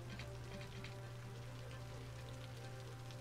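Steady rain patters evenly on surfaces in Cities: Skylines, a soft continuous hiss over a low hum, unchanging for the whole stretch with no voices.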